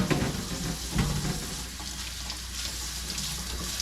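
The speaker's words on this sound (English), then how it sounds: "I'm gonna wash my rhubarb right there" Tap water runs steadily while rhubarb is washed in a kitchen sink, a continuous close splashing hiss with a few brief knocks near the start and no talking.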